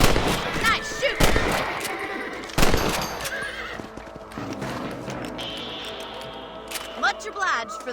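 Rifle gunshots from rabbit hunting in the Western video game Red Dead Redemption ring out as several sharp, loud cracks mixed with horse whinnies and hoofbeats.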